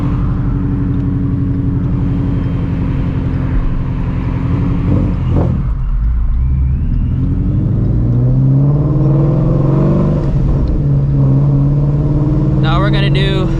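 Procharged Ford Mustang engine droning loud and close, then climbing in pitch as it pulls hard through the gears, with a voice speaking over parts of it.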